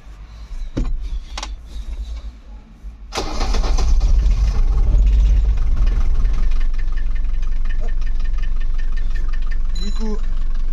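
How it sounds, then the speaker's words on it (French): A van engine cranks briefly then catches and settles into a steady, rumbling idle that continues to the end, with some handling noises and a faint voice near the close. "Et là je vais allumer le moteur."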